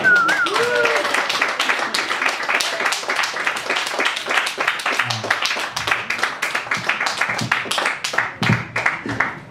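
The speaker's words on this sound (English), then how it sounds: "Round of applause, everybody." An audience breaks into dense, sustained applause, many hands clapping loudly and continuously, with a voice faintly audible early on.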